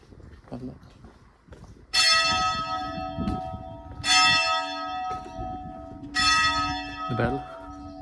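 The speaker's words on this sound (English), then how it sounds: "The bell." A church bell in a semi-abandoned Central Italian village tolls three loud, ringing strikes about two seconds apart, each decaying slowly over faint background sounds.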